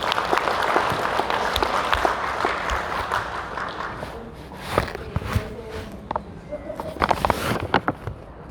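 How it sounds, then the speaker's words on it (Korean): An audience at a formal general meeting applauds, a broad wash of clapping that fades into scattered individual claps and sporadic taps toward the end. "큰 박수 한번 좀 부탁드리겠습니다"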